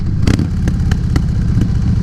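Sharp, irregular exhaust pops, about five of them, crackle over a steady low engine rumble from a Harley-Davidson Dyna Low Rider S motorcycle close by.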